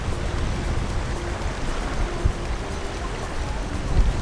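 Rain falling in Lauterbrunnen, Switzerland, a steady patter and hiss on surfaces with a low rumble underneath and a few louder drops, with no one speaking.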